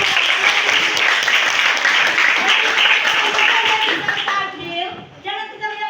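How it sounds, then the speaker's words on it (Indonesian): An audience applauds with dense, sustained clapping at close range, thinning and tapering toward the end. "Ya, tepuk tangan untuk Bapak."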